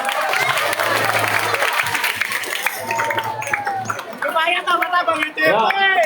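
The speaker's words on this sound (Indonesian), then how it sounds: "Tepuk tangan dulu." Audience applause at a Friday religious study gathering, a steady wash of clapping from a crowd that runs through most of the moment, with a voice speaking over it and a brief dip before the clapping swells again near the end.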